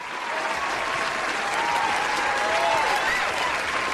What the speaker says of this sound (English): Give you a hand clap.